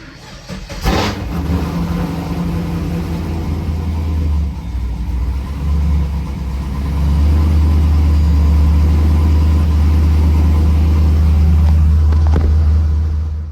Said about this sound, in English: So I'm going to move the Caprice. Haven't started in a while. Let's see how this sounds.